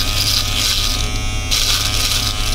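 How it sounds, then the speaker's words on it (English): A foil shaver cuts hair while fading a home haircut, giving a steady, close electric buzz that runs without a break for the whole stretch, with no talk over it. "I use foil shaver"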